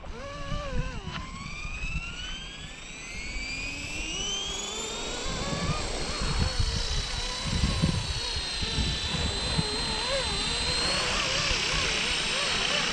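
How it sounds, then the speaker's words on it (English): A Blade SR radio-controlled helicopter spinning up and lifting off outdoors in wind, its rising electric whine and rotor buzz climbing in pitch and then holding steady as it flies nearby. "it's actually not a bad little helicopter"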